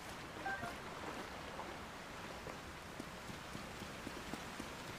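Steady rushing waterfall in the video game Zelda: Tears of the Kingdom, a soft, even wash of falling water with faint scattered splashes throughout and no voices.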